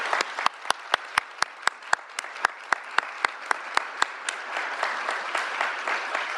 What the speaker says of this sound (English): now a round of applause for the newest members of the order